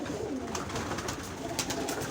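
Pigeons cooing back at their home loft after returning, a dense chorus of overlapping coos and rustling wingbeats filling the space steadily, close and moderately loud with no speech.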